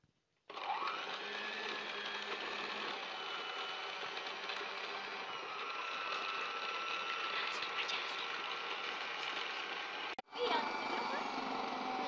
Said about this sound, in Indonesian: Lalu mixer selama kurang lebih 5 menit.